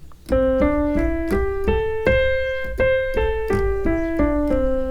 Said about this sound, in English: the specific name is pentatonic scale.